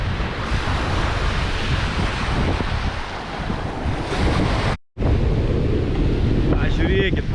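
Baltic Sea waves breaking on the sandy beach between Klaipėda and Palanga make a steady, loud roar of surf, with heavy wind buffeting the microphone and a brief dropout partway through.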